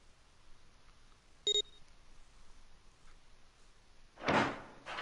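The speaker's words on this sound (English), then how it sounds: "The door opened." A door opens in the video game 999, heard as a short electronic beep followed a few seconds later by a brief whooshing slide, faint and alone.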